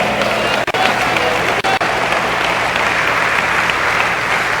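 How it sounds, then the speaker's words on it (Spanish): A church congregation claps in sustained, loud applause during a Spanish-language worship service, a dense steady wash of hands with two brief dips, heard alone without voices on top. "Dele ese aplauso al Señor."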